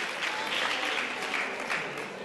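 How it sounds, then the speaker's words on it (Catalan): Studio audience applauding in a Catalan spelling game show final, a short burst of dense clapping that stays steady and fairly close throughout with no talk over it. "un aplaudiment per la Clàudia"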